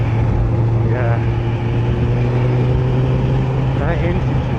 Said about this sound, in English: That engine just pulls like a train.